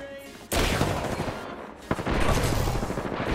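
R-301 assault rifle hip-fired in Apex Legends ranked arena, two loud sustained bursts of rapid automatic gunfire with a brief gap between them, close and dense.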